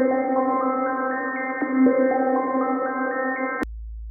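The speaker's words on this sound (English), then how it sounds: "it's possible to make an arpeggio out of a single note" A single synthesizer note steps through a stepping arpeggio of bright harmonic tones made by sequencing its filter cutoff, rising in even sequence before cutting off abruptly.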